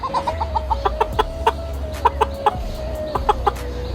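A local country hen clucks in a steady series of short, close, fairly loud calls spaced about a quarter-second apart, with a soft low background rumble and no talking.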